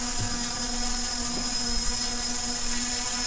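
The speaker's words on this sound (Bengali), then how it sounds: "ড্রোনটা এক জায়গাতে দাঁড়িয়ে আছে" A remote-controlled drone hovers in place, giving off a steady, unbroken high-pitched buzzing whine with a low motor drone beneath it.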